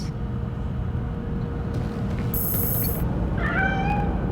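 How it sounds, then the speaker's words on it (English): A cat meows in the Gotham Knights video game, a short rising cry heard late over a steady low background hum and game ambience. "Is that a cat?"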